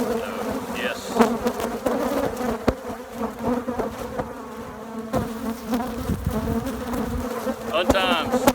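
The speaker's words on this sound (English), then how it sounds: "These are angry bees." An angry honeybee colony buzzes loudly and continuously at close range in the morning, a dense droning swarm with individual bees whining past, and a voice speaks faintly beneath it.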